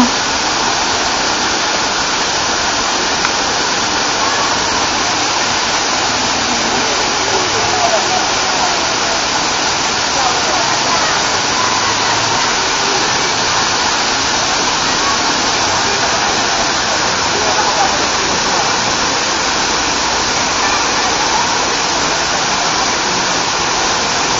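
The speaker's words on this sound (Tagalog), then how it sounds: "Yan po ang Hinulugang Taktak Falls na makikita po dito sa Antipolo City." Hinulugang Taktak waterfall in Antipolo City pours in a loud, steady, broadband roar that stays constant throughout, with no breaks and a voice faintly heard beneath the rushing water.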